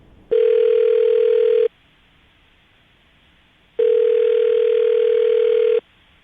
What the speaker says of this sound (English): I'm about to dial Terrence's phone number